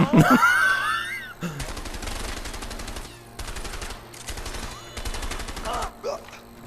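Automatic gunfire rattles in repeated bursts in the video game A Way Out, with steady rapid shots separated by short pauses. It opens with a brief shrill cry and carries some muffled background noise.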